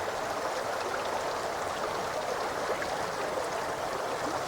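Stream water runs steadily and close by, a broad continuous rush with light gurgles and splashes, no voices over it.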